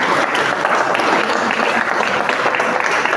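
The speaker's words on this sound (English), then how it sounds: "You can go clapping" Steady applause from a crowd at a school graduation assembly, dense and continuous clapping throughout at a fairly loud level.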